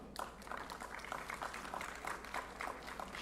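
Faint, fairly sparse clapping from an audience at the APTICON 2023 conference in Kanpur, heard as a quiet patter of individual claps.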